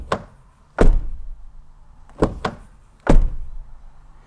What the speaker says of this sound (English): there's a lot of noise every time I close the front door.